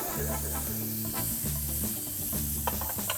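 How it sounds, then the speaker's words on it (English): Cayenne and onions lightly sweating in a pan, a steady sizzle and hiss under a repeating low rhythmic hum from nearby kitchen equipment. "So lightly sweating the cayenne with the onions."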